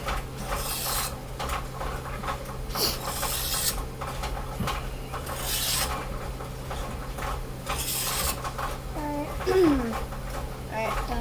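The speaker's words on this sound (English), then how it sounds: "as he sharpens the knife, he's just again working the whole blade there." A knife blade being sharpened on a grit stone in a garage, repeated rasping strokes along the whole edge in slow rhythm, with people talking over it.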